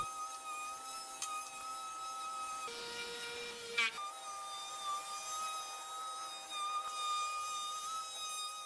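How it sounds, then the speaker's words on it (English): An orbital sander works the top of a thrifted wooden table, giving a steady, close whirring grind with a faint motor whine for the whole stretch and no talking. "I use my circular sander on the top, and then I use my smaller sander on the more detailed parts of the table."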